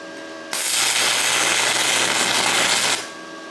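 An inverter welder running a butt joint on two pieces of 1/8 inch steel plate gives a steady, loud, close crackling hiss for about two and a half seconds that starts and stops abruptly.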